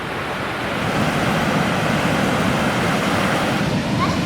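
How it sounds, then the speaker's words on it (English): Sea waves wash onto the shore in a steady, loud, continuous roar of surf with a breezy hiss, close by and with no one talking. "I'm extremely happy to be sitting now by the sea and listening to this raw noise."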